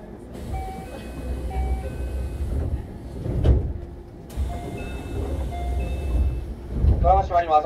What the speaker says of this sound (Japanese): ドアが閉まります。お荷物を体挟まれませんよう十分ご注意ください。